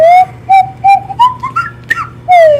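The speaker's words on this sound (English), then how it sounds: "I like it a slide whistle." A slide whistle plays a series of short rising and gliding tones, loud and close, with brief pauses between swoops and a faint low hum underneath.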